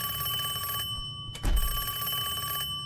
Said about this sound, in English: I was gonna use the phone to call a phone number.